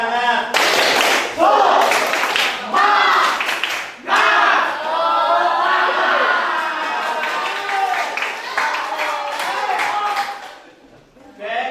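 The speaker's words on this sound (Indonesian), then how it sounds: "Tepuk semangat." A group does a rhythmic spirit clap in a classroom teaching session, with bursts of patterned clapping mixed with shouted chanting voices, loud and close throughout.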